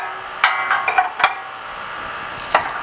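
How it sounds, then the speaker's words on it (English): An 11/16 wrench snugging a lock nut on a riding mower deck, producing a few sharp, close metallic clicks and taps spaced irregularly over near silence. "tighten up your lock nut, take your 11/16"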